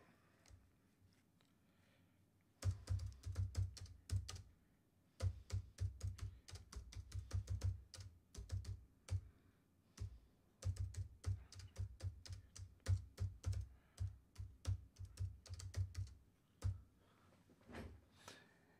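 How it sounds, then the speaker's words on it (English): Fast, uneven bursts of typing on a computer keyboard, close and crisp, with brief pauses between runs of clattering keystrokes after a quiet start. "I'm going to now select the text tool, one click, and I'm going to start typing up the text."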